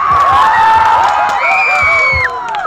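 A lively crowd at a local stage show cheers and whoops with high shrill whistles and excited shouts, while loose clapping rumbles underneath, all close and loud.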